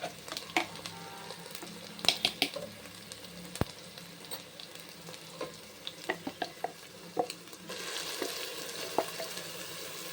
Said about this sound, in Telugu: ఇప్పుడు ఇందులో మనం ఇందాక గ్రైండ్ చేసుకున్న ఆనియన్ పేస్ట్ కూడా వేసుకుందాం.